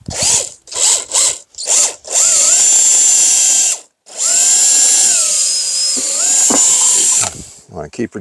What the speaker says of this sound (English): There's where I'm going to be drilling through.